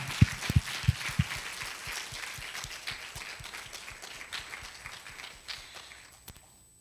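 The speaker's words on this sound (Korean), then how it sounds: "拍手を捧げましょう。" Congregation clapping at a church service, a burst of loud claps at the start thinning into a steadier, softer patter that fades out toward the end.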